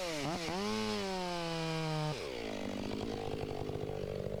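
A chainsaw makes the bottom cut of the scarf while felling a tree, revving up sharply, holding a loud, steady whine, then dropping in pitch and chugging roughly as the chain bites into the wood, close by.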